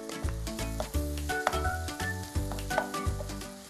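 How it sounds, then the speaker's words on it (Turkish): Peppers tipped into a frying pan with mushrooms sizzle steadily, with repeated stirring scrapes and soft clatters of a utensil against the pan, close and fairly loud with no talk. "Şimdi biberlerimi ilave ediyorum."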